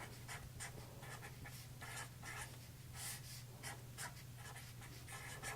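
An equation being written by hand, with soft rhythmic scratching strokes of a pen or pencil on paper in short bursts over a quiet, steady background hum.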